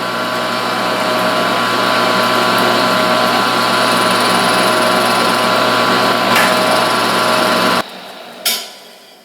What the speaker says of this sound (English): So I'm just going to drill through this and just touch the body of this.